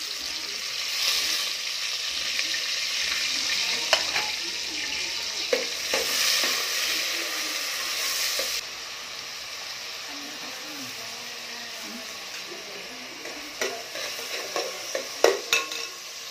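Sliced onion and curry leaves sizzle steadily in a hot pan while a spoon stirs them, with scraping strokes and clinks that grow louder and more frequent toward the end.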